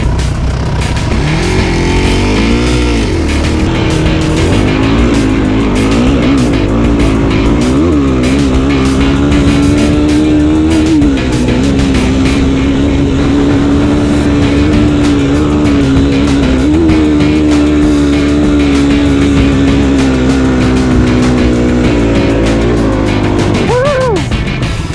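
An RC truck races up a steep sand dune called Choke Cherry, its motor a loud, continuous droning whine that rises and falls in pitch as it climbs, close throughout.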